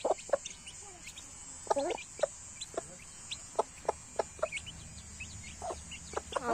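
Farmyard chickens cluck in short, sharp calls scattered irregularly over a quiet outdoor background, some close and some a little farther off.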